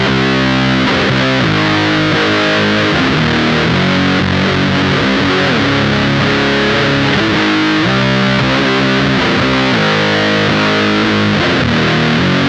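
Electric guitar driven through Minotaur Sonic Terrors fuzz and burn pedals stacked together, a boosted Big Muff-style wall of heavily distorted chords, loud and sustained with steady riff changes and no voices.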